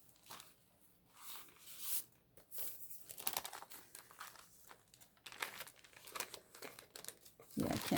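A sheet of paper is folded by hand to make a straight crease and a right angle, producing close, intermittent crinkles and crisp creasing rustles spread irregularly across the stretch.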